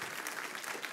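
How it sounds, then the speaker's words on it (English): Audience applause at a lightning talk on Chromium running under Wayland, a brief steady burst of clapping from a seated crowd, moderately distant with no voices over it. "so please applause"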